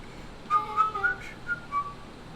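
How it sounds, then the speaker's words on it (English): A character in the video game Beacon Pines whistles a jaunty tune, a short run of bright, clear notes rising and falling over about two seconds against a quiet background. "he continued up the stairs, whistling a jaunty tune"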